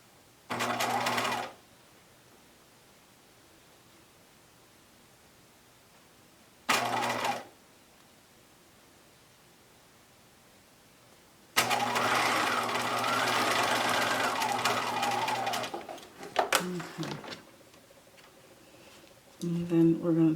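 A sewing machine top stitches the front of a fabric mask in three bursts: two short runs, then a longer, slower stretch, with talk around it.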